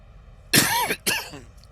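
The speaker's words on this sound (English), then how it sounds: "I do apologize for coughing in your ear there like that" A man coughs twice in a headset microphone during a flight-simulator air traffic control session, a loud rough burst followed by a shorter second cough, close and alone.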